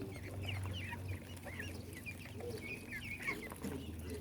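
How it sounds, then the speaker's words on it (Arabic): Chickens on an organic poultry farm in Egypt cluck and chatter continuously at close range, with overlapping calls from several birds over a low barnyard hum. "هذه طيور أورجانيك"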